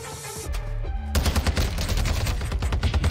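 Rapid gunfire bursts in the Warzone 2 video game, likely a battle rifle, loud and close with dense repeated shots running continuously after a brief quieter opening.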